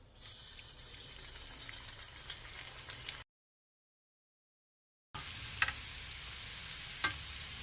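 Snacks deep-frying in hot oil, a steady close sizzle and bubbling with a few sharp crackles, cut by a short stretch of silence before the frying resumes.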